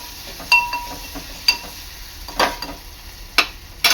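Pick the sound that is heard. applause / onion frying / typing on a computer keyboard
onion frying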